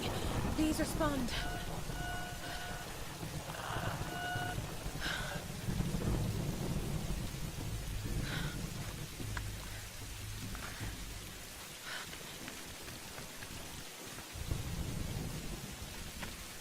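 Thunder and steady rain in the 2013 PC game Tomb Raider, heavy rainfall hissing throughout with low rolling rumbles, while someone talks over the storm and other voices are heard.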